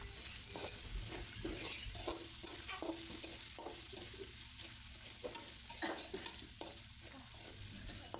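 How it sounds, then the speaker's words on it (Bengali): Onions are stirred with chili, ginger and garlic paste in a pan for chicken khichuri, the spoon scraping in steady repeated strokes over a constant loud sizzle of frying. "এরপর লঙ্কা বাটা, আদা বাটা, রসুন বাটা দিয়ে ভালো করে একটু নেড়ে চেড়ে নিতে হবে 1 মিনিট"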